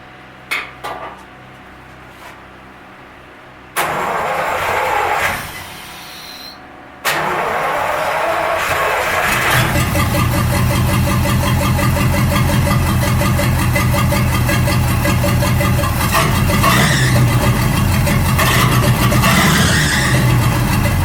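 A 1937 Buick Roadmaster engine cranks and catches, then settles into a loud, steady idle with a rough, rattling mechanical texture.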